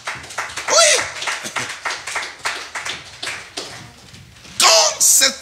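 A church congregation bursts into loud clapping and cheering near the end, after a stretch of a preacher talking over scattered claps, with a shorter burst of applause earlier on.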